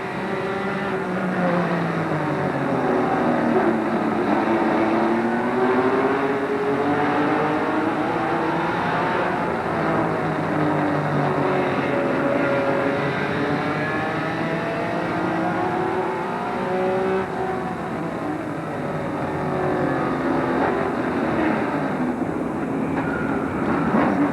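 Onboard NASCAR Busch Grand National race car from Bobby Dotter's car during the 1994 SunDrop 400 at Hickory Motor Speedway, a loud continuous engine drone whose pitch rises and falls as the car accelerates and slows through the laps.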